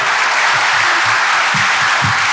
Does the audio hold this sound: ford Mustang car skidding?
no